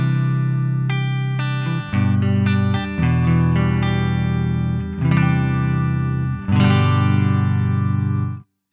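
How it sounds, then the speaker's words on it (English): An electric guitar plays through a clean amp model in Amplitube 5. Several sustained, ringing chords are struck one after another, bright and close, with no voice. "Still a clean amp, but it sounds pretty different, right?"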